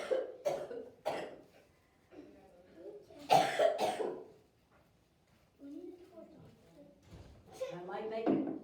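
A man coughs several times during a spoken talk, with loud, sharp bursts between stretches of his speech, close to the microphone.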